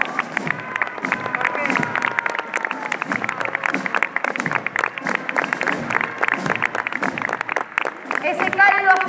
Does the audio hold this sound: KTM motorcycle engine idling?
no